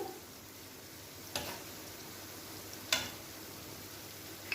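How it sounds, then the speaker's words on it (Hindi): Sweet potato malpua shallow-fries in oil in a non-stick pan, a faint steady sizzle with two brief sharp clicks from utensil touches. "मैं शैलो फ्राई कर रही हूँ।"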